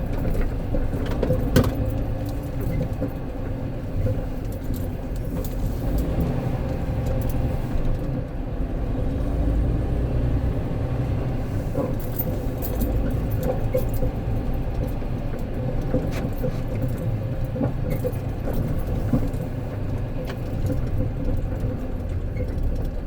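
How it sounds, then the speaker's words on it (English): A truck rumbles steadily from inside the cab as it is driven, a low continuous engine drone with road noise and occasional small knocks and rattles. "I'm about to go move the truck real quick"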